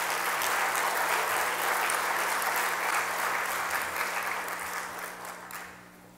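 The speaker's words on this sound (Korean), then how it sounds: "우리 하나님께 영광의 박수를 올려드리겠습니다." Church congregation applauding during a Sunday service, a steady dense wash of clapping that holds evenly and then fades toward the end.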